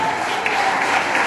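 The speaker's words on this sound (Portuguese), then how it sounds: "Então glorifica com palmas de poder." A congregation claps at a Portuguese-language church service, a short, dense burst of applause filling the hall with no speech over it.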